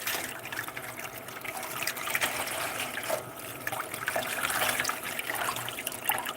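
A loofah sponge is rinsed under running water, giving a steady, close splashing and trickling wash throughout with no speech.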